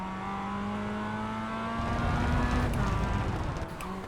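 A race car in the iRacing sim drives a drying track at Navarra, its engine note a steady whine that rises and falls through the gears, with a brief surge of rougher roar midway and no talking.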